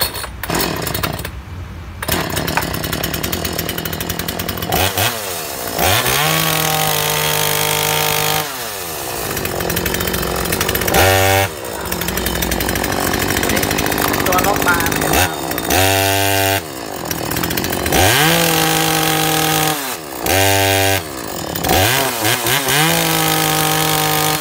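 A small two-stroke Daewoo DACS 4212 chainsaw engine sputters to life after several pulls, then revs and idles in loud, uneven bursts with brief pauses between.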